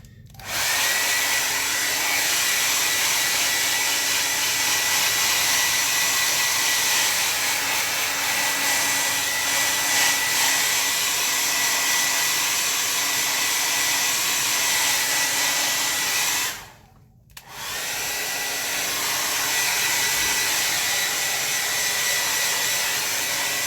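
Hair dryer drying a watercolor landscape painting, a loud steady close whoosh of blowing air with a motor whine that runs continuously, cuts out briefly, then starts again, with no talking.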